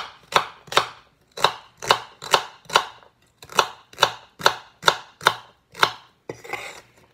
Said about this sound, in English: So we'll be chopping this into small slices.